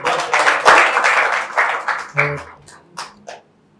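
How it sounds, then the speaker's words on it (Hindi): Audience applause for a speaker at a Hindi poetry event, a burst of clapping that tapers off over a few seconds, mixed with voices and a brief shout. "एक बार जोरदार तालियां हो जाए मैम के लिए।"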